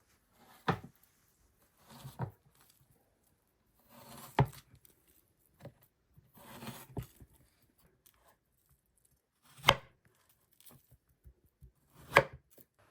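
A knife dicing plantain on a cutting board, heard as sharp isolated chops and short bursts of rapid taps separated by quiet pauses, close and fairly loud.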